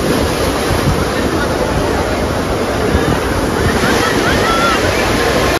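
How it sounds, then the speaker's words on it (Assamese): Sea waves at Digha beach surge in a loud, continuous roar of surf close by, with steady wind buffeting the microphone throughout. "এই আমাৰ পিছফালে সাগৰ।"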